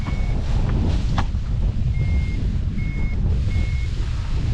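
Steady wind roars across the microphone during a paraglider flight test with an Air Design Susi wing, a constant low buffeting rush, with a faint intermittent electronic beep repeating in the background.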